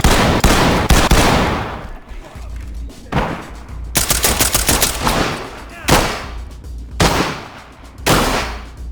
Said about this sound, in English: Even with a suppressor, these things thump, making every shootout a cacophony of noise.